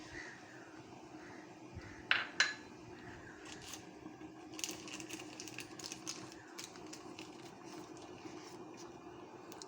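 A lid set over a cooking pot, two sharp metallic clinks close together followed by softer rattles and light kitchen clatter in a quiet room.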